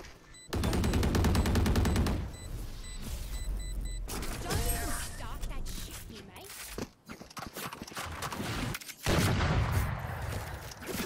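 Sheriff pistol shots and other gunfire ring out in the tactical shooter Valorant: several loud sharp bursts with mechanical clatter and crashes, spread across a busy stretch of game audio.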